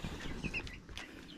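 Chickens at a newly built backyard coop give a few short, quiet clucks and chirps against a steady outdoor background, with no voices.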